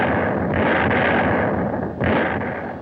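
Gunners shelling the stricken aircraft carrier USS Hornet produce a loud, dense rumble of firing with a brief dip and a fresh surge near the end, with no voices.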